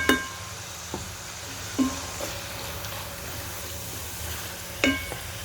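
Cardamom, cinnamon, cloves, ginger and garlic frying in hot oil for a fish dish give a steady soft sizzle, with a few sharp clinks of a spoon against the pan, close and without talk.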